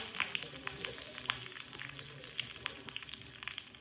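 Mustard seeds and curry leaves fry in oil in a kadai, a quiet, steady sizzle dotted with sharp little pops and crackles, no voices.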